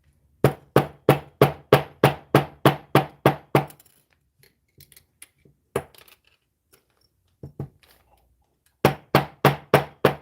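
A hammer strikes a wire craft piece in sharp, even bursts, a fast run of about a dozen loud metallic taps, a scatter of lighter knocks in a pause, then another quick run.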